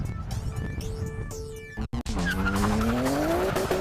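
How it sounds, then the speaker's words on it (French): Race car accelerating hard in first gear on dry ground, all four wheels spinning: a loud, sustained tire squeal with rising engine pitch after a brief dropout, over a steady roar. "En première, même sur sol sec, les 4 roues patinent"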